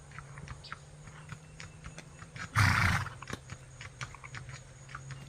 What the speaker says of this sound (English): let you hear him do the nice gait he does